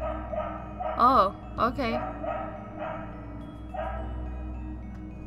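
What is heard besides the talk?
dog barking in Trick and Treat video game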